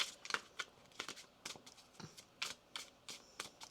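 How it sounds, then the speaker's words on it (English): Tarot cards are shuffled by hand close up in a steady series of crisp riffling bursts, about a dozen quick flutters in a quiet room. "One more shuffle here, please, and thank you."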